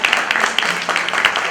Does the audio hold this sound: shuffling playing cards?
no